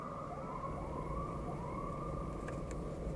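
A siren wails with a steady rising and falling tone, faint and distant over a low traffic rumble, with no voices.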